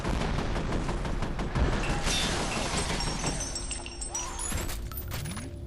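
Gunfire in the video game F.E.A.R. comes as dense bursts of shots and crashing impacts at moderate level, easing off toward the end as game effects ring out.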